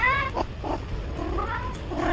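A cat meows a few times, faint and somewhat distant, over a low rumbling background with no talking.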